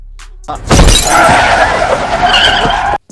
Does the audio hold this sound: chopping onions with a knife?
no